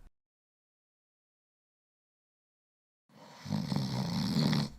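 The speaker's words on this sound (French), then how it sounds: "Aussitôt que le petit Pousset entendit ronfler l'ogre" An ogre's snoring, used as a sound effect in a fairy-tale reading: after about three seconds of silence, a single loud, rough, drawn-out snore rumbles close up until the end.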